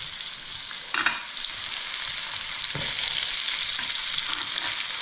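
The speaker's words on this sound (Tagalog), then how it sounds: "gisa muna natin. At, tapos sibuyas" Onions sauté in a pan for Ilocano pakbet, giving a steady close sizzle with occasional stirring knocks and scrapes, no talk over it.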